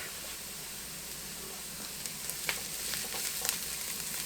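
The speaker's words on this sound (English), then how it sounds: "I'm going to add in my garlic. And I've got about 2 tablespoons of minced garlic." Minced garlic hits browned onions in a hot pan for a Tex-Mex tamale pie, giving a steady close sizzle with a few sharper spatters and stirring clicks toward the end.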